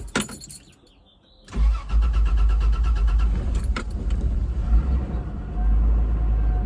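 A Toyota 80 series Land Cruiser, just fitted with a new fuel pump, cranks briefly after a jingle of keys, then its engine catches and settles into a loud, steady, close-up rumbling idle.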